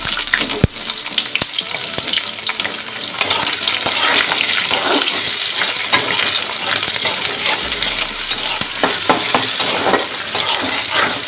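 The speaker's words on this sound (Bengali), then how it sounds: "ভাজা ভাজা হোক রসুনটা দিয়ে এবার আমি পেঁয়াজটাও দিয়ে দিলাম" Garlic and onion frying in oil in a pan, a loud steady sizzle with crackles and occasional stirring clinks running throughout, with no voices.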